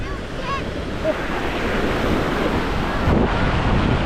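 Mediterranean surf washes steadily at a beach in Tel Aviv while heavy wind buffets the microphone, giving a constant roaring hiss with no clear breaks.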